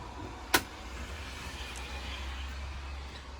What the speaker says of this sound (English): if you close this, the door will close